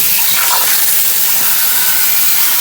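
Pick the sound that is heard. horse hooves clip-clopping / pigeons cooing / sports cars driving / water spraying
water spraying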